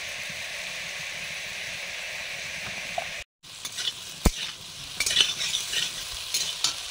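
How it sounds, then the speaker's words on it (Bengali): Potatoes fry in a pan for a Bengali aloo posto, with a steady sizzle under scraping stirs. A brief dropout is followed by sharper spoon clinks and louder stirring strokes nearby. "এদিকে আলুটাও ভাজা হয়ে গেছে।"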